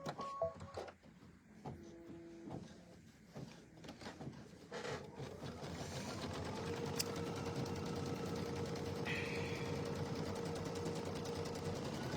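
Embroidery-style sewing machine stitching a tack-down line on backed fabric for a kitchen-themed quilt block, a steady mechanical whir building after a few handling clicks and bumps, continuous and close, with no talking.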